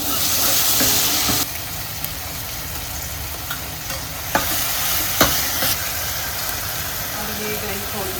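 Onion and tomato frying in a pan for dal, a continuous soft sizzle with occasional stirring clicks and scrapes from a spoon.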